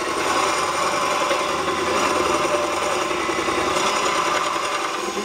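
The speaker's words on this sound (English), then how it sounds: "I'm going to core out some of this material with a Forstner bit" Forstner bit boring into bath pouf material on a lathe or drill, a steady loud grinding and rasping whir that runs without pause.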